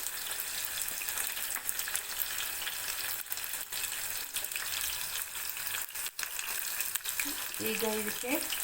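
Onions frying in oil for an ivy gourd curry, a continuous soft sizzle close by with occasional clinks of a utensil toward the end.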